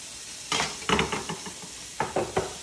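Steaks searing on a medium-high grill give a steady sizzling hiss, broken by several short scraping and clattering bursts of cooking tools moving nearby; no one talks.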